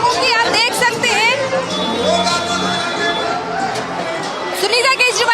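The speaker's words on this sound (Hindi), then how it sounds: "सुनीता केजरीवाल के स्वागत में लोग कितनी नारेबाजी कर रहे हैं।" A dense crowd at an AAP election road show in Delhi chants slogans to welcome Sunita Kejriwal, voices shouting together in loud rhythmic bursts over continuous crowd babble.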